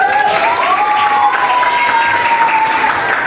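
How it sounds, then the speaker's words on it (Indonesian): Students in a classroom clap together in one steady, close round of applause that runs continuously, with a faint sustained tone riding above the clapping. "tepuk tangan sekali"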